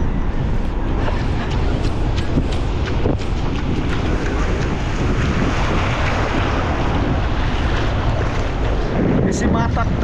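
Sea at a beach in Aracaju, a continuous loud wash of waves and surf mixed with strong wind buffeting the microphone, steady throughout.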